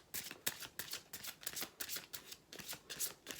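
Rapid, rhythmic riffling of a deck of oracle cards being shuffled close up, crisp bursts repeating about three times per second, with no talking.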